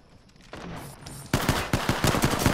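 Triple Take rifle fire in a shooter video game: a quiet stretch of clatter, then a loud burst of rapid sharp shots in quick succession, close and dominant.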